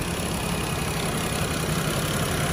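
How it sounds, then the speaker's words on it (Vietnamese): A 2009 Chevrolet Spark engine idles close up with a steady, even mechanical hum and a constant loud background that stays level throughout. "Máy này máy êm chưa?"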